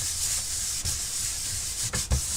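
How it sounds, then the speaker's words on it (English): A CNC-milled polymer clay inking stamp rubbed on a smooth surface: a steady close-up hiss of friction with a few sharper strokes near the end, no voices. "I'm going to try rubbing it on something smooth to smooth it."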